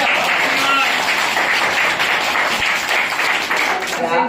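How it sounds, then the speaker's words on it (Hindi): A school crowd at an honouring ceremony claps loudly and continuously, dense applause close by with voices calling out over it. "ताली बजाओ"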